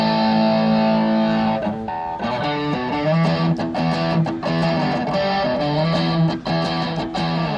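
Electric guitar played through an Analog Alien distortion pedal set to a moderate, not over-the-top drive, strumming loud sustained chords with changing notes and sharp pick attacks, steady and close with no voices.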